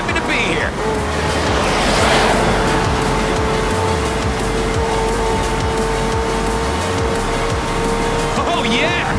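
Racing car engines roar steadily in Forza Horizon 4, a loud continuous drone with rising and falling revs as cars speed through festival streets, under music and a talking voice.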